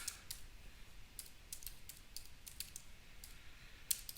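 Soft, quick keystrokes tap on a computer keyboard in a quiet room, about a dozen light clicks in uneven rhythm with a sharper final tap.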